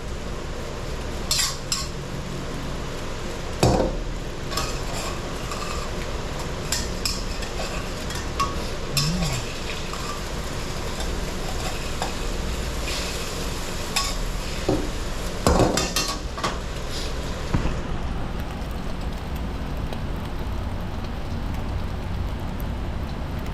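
Steady hiss and sizzle of an omelette frying in an iron pan, with scattered clinks and scrapes of a utensil against metal throughout.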